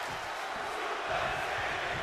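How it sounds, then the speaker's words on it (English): A packed wrestling crowd at T-Mobile Arena in Las Vegas roars steadily for Edge versus Brock Lesnar at the 2024 Royal Rumble, a dense, continuous wall of cheering and chanting with no break. "You hear the audience here in Vegas"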